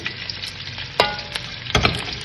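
Garlic sautéing in hot oil with bay leaf, cinnamon, cloves and cardamom, a steady close sizzle with a few sharp spatters and stirring scrapes around the midpoint and near the end.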